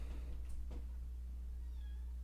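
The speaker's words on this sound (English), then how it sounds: "Good old podcast cat." A house cat gives a couple of short meows close to a microphone, each one clear over a steady low electrical hum in a quiet room.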